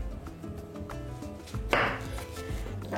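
A knife finely chops salad ingredients on a board, with steady light taps under background music and one louder, sharper cut midway.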